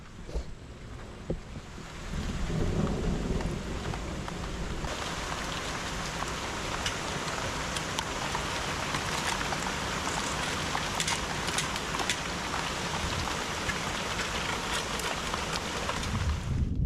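Rain pours steadily during a lightning storm outside a home aviary, a dense, broad hiss that swells after a few seconds and holds loud and even, with no clear thunder claps.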